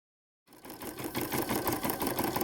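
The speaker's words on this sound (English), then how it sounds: "show you the PE 770 refurbished machine in action again" A refurbished Brother PE 770 embroidery machine embroidering a blanket starts up after a short silence, then runs with a steady rhythmic mechanical whir and pulsing needle chatter, close and moderately loud.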